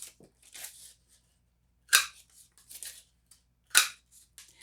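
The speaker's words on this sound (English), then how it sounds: "I'm just going to use the inch hole punch and I'm going to punch holes in this" A one-inch hole punch cuts through paper in a few sharp, crisp clacks spaced about two seconds apart, with faint rustling and handling between them, close and quiet.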